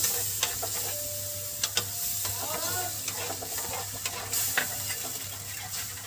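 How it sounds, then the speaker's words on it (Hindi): A spoon stirs semolina in a pan on a low-medium flame, giving soft scraping and wet sizzling as milk is poured in, with steady gentle clatter and a faint low hum underneath. "इसे लगातार चलाते हुए हमें दूध डालना है ताकि इसमें गांठें ना पड़े"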